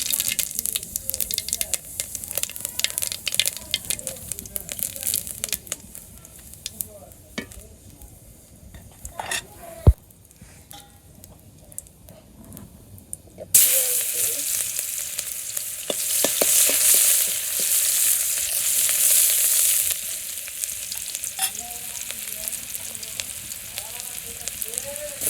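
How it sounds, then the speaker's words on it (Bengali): Cumin and ginger paste frying in hot oil in a wok in a village kitchen, a steady close sizzle that swells loudly midway, with light stirring and utensil clinks. "কড়াইতে তেল দিয়ে দিচ্ছি, এখন জিরা আদা সস দিয়ে দিই"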